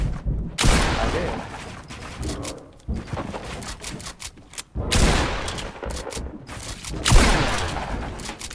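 Gunfire in a video game livestream bursts out in loud, broadband volleys, clustered in rapid fusillades separated by short gaps, mostly alone.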